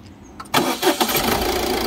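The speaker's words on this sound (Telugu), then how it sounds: "సింగిల్ సెల్ఫ్లో అయితే కార్ స్టార్ట్ అవుతుంది" A 2014 Ford EcoSport fires up with a single short crank, then settles into a steady, moderately loud idle close by.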